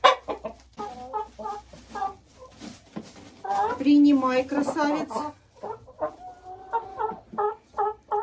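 Six-month-old hens cluck and squawk loudly as they are handled and moved to new housing, in bursts with pauses between. Someone speaks briefly over them.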